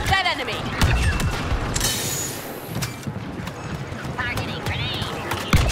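Droid blaster fire in Star Wars Battlefront II Galactic Assault, rapid bursts of zapping shots mixed with other gunfire and battle noise, with a voice speaking briefly over it.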